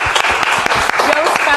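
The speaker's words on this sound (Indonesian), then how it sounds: "Boleh tepuk tangan dong ini." Audience applause at a talk show breaks out as a steady wash of clapping, close and fairly loud, with a few sharper claps standing out over the short burst.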